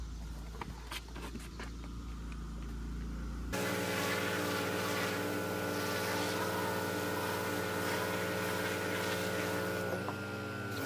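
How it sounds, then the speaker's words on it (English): Car floor mats are blasted with water from a pressure sprayer: after a few seconds of quieter background, a loud, steady hissing spray with a mechanical whine starts abruptly and runs continuously, shifting slightly near the end. "he's going to start to spray them down and then rinse them off"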